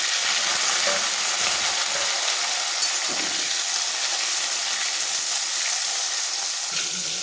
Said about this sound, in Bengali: এই তেলেই আমি করলাটাকে ভালো করে ভেজে নেব।